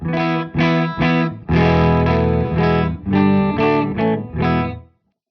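Electric guitar played with a clean tone through an amp's effects loop, a series of ringing chords strummed in a steady rhythm with short gaps between them, loud and close, ending in silence.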